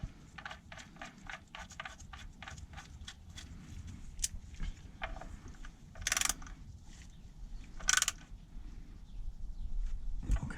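A ratchet clicks rapidly in short bursts while tightening the oil drain plug on a 2016-2020 Chevrolet Colorado or GMC Canyon Duramax diesel, with quick pawl ticks, brief pauses and a couple of sharper metallic clanks, close up.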